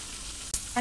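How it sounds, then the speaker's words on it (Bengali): Potato chunks fry in oil seasoned with salt and turmeric, a soft steady sizzle close by that briefly flares louder and brighter near the end. "আলুটাও সুন্দরভাবে ভাজে নিব"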